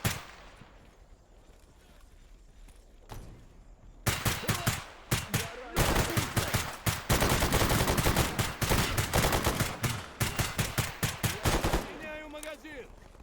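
Rapid bursts of automatic gunfire from a firefight in the video game Stalker GAMMA, loud and dense, starting after a quiet few seconds and continuing almost without pause to the end.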